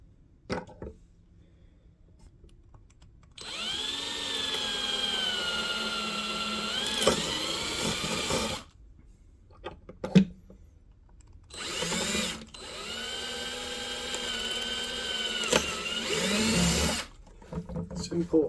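A power drill bores through carbon fibre car parts for a Ford Cortina, giving two sustained whining runs that rise and fall in pitch, separated by short thuds and handling noises in the pauses.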